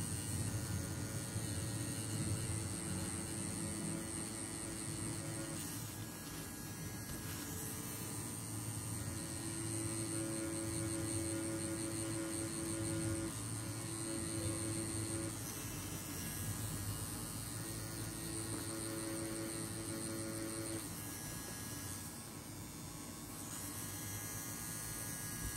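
An affordable Chinese wireless tattoo pen machine buzzes continuously while solid shading, a steady, close electric hum with faint shifts in pitch as the needle works the skin.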